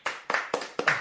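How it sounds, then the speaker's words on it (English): Hand clapping from a small audience at an awards show, five distinct sharp claps in a steady rhythm over about a second, close and fairly quiet. "I think that deserves a round of..."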